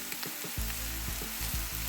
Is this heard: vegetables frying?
yes